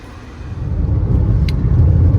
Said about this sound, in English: So here I am taking my blue-black 124 for a casual drive on a 41-degree afternoon.